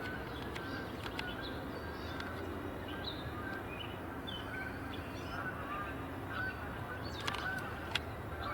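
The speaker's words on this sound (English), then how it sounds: "Canada geese coming in. Sounds like a fair number of them," A flock of Canada geese flying in, honking repeatedly at a moderate distance over a steady outdoor background hiss, the calls scattered and overlapping with a few louder ones near the end.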